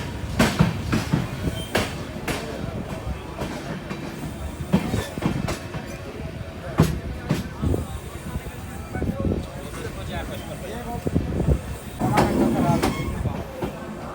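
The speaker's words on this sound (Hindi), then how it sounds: "हाँ चलिए अपनी रुड़की जंक्शन से अपनी ट्रेन निकल चुकी है।" The Amrit Bharat Express pulling out of Roorkee Junction: clattering wheel clicks and rolling rumble with intermittent metallic knocks and squeals, under someone talking throughout.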